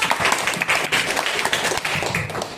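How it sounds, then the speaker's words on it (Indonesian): A school classroom of seventh-grade students claps briefly after a lesson. The applause is close and fairly loud, made of quick uneven hand claps that fade slightly toward the end. "tepuk tangan untuk"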